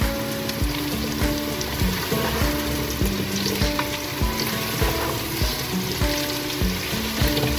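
Zucchini fries in a pan with a steady crackling sizzle like rain on a surface, cut through by repeated tonal scrapes and knocks of a utensil stirring, and no one speaks.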